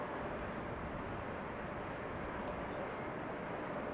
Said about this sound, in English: Transavia coming in.